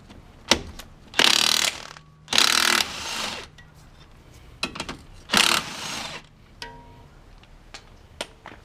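Socket wrench with a 22 mm socket ratcheting in several loud bursts of rapid clicking, separated by brief pauses and scattered single knocks, up close with no talk.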